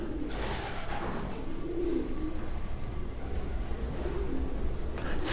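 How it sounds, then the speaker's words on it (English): Pigeons coo in soft, low, rolling murmurs, repeating a few times under a steady, noisy hiss of room or outdoor ambience. "It's difficult with the pigeons, because I know they're making a lot of noise up there"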